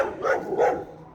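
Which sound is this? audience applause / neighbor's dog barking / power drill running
neighbor's dog barking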